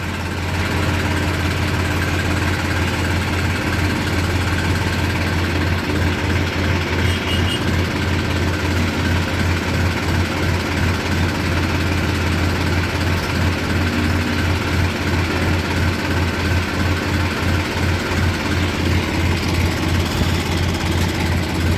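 A Mahindra 265 tractor engine idles steadily close by, a low continuous throb with a fine rapid pulse that holds even and loud throughout, with no talk over it.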